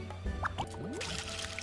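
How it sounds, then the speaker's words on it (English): Planted crops are watered in the farming video game Re:Legend, with soft drips and liquid pours splashing in short bursts over a low game background hum. "Just watering them here."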